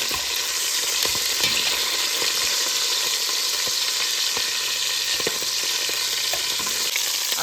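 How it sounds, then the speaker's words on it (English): Sausages browning in a pot for Italian meatballs, a loud constant sizzle and crackle with sharp pops and scraping as they are turned, close up. "now we have our sausages in our pot. And we're just going to turn our sausages here."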